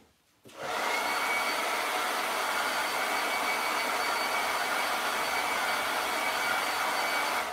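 A hair dryer blows on a freshly cleaned Chalk Couture silkscreen mesh, clicking on after a brief quiet moment and then roaring as a loud, steady, broad rush close by until the end.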